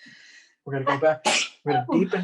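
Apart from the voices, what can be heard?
sneeze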